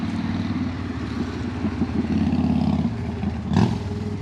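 A loud road vehicle drives past close by, its engine rumbling steadily and rising in a short burst near the end, with no voices.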